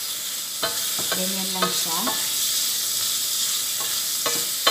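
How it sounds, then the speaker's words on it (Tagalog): Shrimp fry for a stir fry in a hot pan, giving a steady, bright sizzle throughout. A few short utensil scrapes and a brief voice come in over it. "So, hipon muna ilagay natin"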